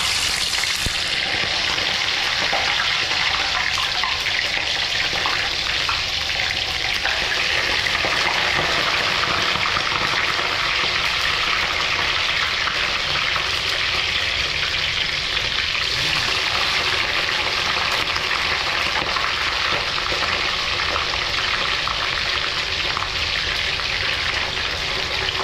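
Continuous loud crackling and sizzling of tilapia frying in hot oil, an even spitting texture throughout with no talking.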